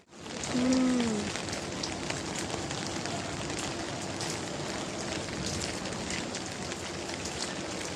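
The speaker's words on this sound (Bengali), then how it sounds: "আজকে সারাক্ষণ খালি বৃষ্টি।" Constant patter of rain falling nearby, a dense even hiss with scattered drops, and a faint brief tone near the start.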